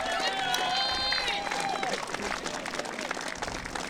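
A crowd cheers and applauds after the women's barebow gold medal final at the 2022 U.S. Open archery championship, a steady loud roar of clapping with shouts and excited voices.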